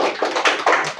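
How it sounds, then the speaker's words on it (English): Guests at a valediction and prize distribution ceremony give a round of applause, a few close, sharp hand claps in uneven rhythm, short and fairly loud, with no one speaking over it. "Give a huge round of applause."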